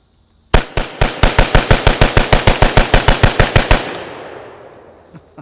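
A shotgun fed from a 20-round magazine fires about twenty loud, sharp blasts in a fast, even string, then a ringing echo decays into quiet, with one faint knock near the end.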